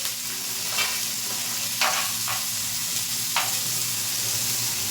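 Cashews sizzle in a hot pan while matar paneer gravy is prepared, a steady close frying hiss broken by a few sharper bursts as the pieces are stirred.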